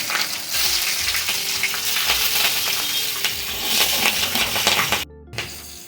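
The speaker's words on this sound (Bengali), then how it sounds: "একটু ফোড়ন দিলাম, 2-4টা কাঁচা লঙ্কা," Fresh green chillies fry in hot oil as a tempering for a hilsa (ilish) curry, a loud, close, continuous sizzle with stirring scrapes that drops away sharply near the end.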